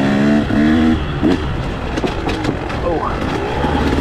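A KTM 150SX two-stroke dirt bike ridden on single track, its engine loud and close, revving and droning continuously with rising and falling pitch while the rider briefly exclaims.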